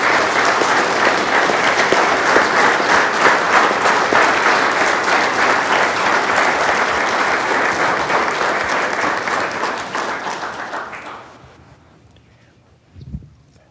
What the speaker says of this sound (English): And let's clap for them as they come forward,